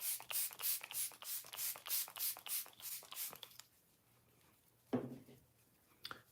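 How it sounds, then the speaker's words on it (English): MAC Fix Plus setting spray misted from a pump bottle in a series of about a dozen quick, hissy pumps in steady rhythm, close and soft, followed by quiet handling noises. "I'm just using my MAC Fix Plus Stay Over Spray."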